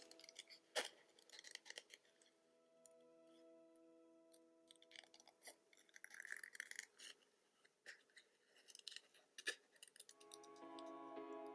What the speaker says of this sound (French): Je vais quand même découper celle-là, on va voir ce que ça donne.